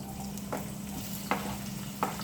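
Onion sautés in hot oil, a continuous soft sizzle under a low steady hum, with three brief scraping stirs spaced through the clip.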